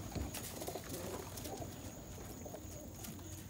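An almond-colored pigeon gives soft, low cooing calls nearby, faint against a steady background hum.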